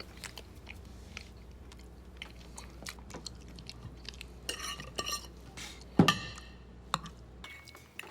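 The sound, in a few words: chewing food at dinner table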